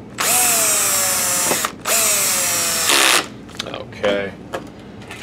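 A power drill with its clutch set to the lowest setting drives screws back into the lamp of a Sony VPL-HW45ES SXRD projector: two sustained whirring bursts, then a short final burst and brief clicks, close and fairly loud with no speech.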